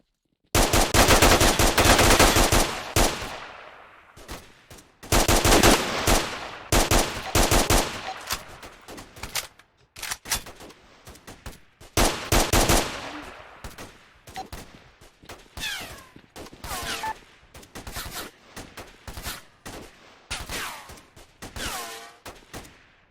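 Loud, close bursts of automatic assault rifle fire in the STALKER shooter game, long rattling volleys with short pauses between them, tapering into sparser, quieter bursts toward the end.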